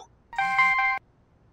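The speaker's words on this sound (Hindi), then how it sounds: "एक मिनट, मैं तिवारी जी को फोन करता हूँ" A short electronic telephone ringing tone plays once: a bright, chiming two-part ring lasting about half a second, clear and alone against quiet.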